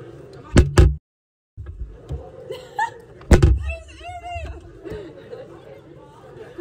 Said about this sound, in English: Let's close the door and we'll open it.